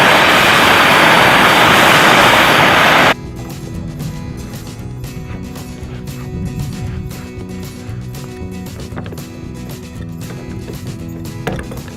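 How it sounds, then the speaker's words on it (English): A torch roars while heating a 1/2 inch pipe thread, a loud broadband hiss lasting about three seconds before cutting off, followed by quieter outdoor background sound. "Then I'm going to heat up my 1/2 inch pipe thread with my torch."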